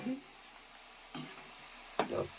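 The first batch of okra fries in a pan with a faint, steady sizzle. A few brief stirring scrapes and clinks break through in quiet surroundings.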